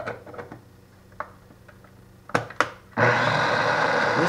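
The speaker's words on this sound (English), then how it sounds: "we'll just run the food processor a little bit more and cut it down" A food processor whirs loudly at close range, chopping pickled garlic into herb oil; a few clicks and clunks come first, then the motor starts with a sudden steady roar.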